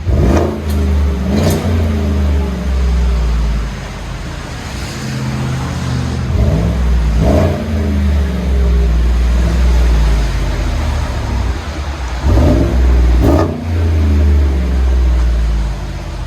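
A deep, throaty 6.2L V8 exhaust on a 2017 Chevy Silverado with a Borla ATAK system idles loudly and is blipped in several sharp revs, each rising and falling back to a rumbling idle, close up.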